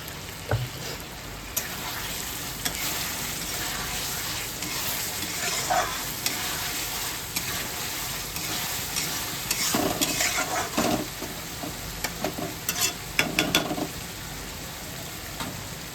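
Paneer being stirred as it fries in a pan, with a quiet continuous sizzle broken by scraping and clinking of a spoon against the pan at irregular intervals, heard close up without speech.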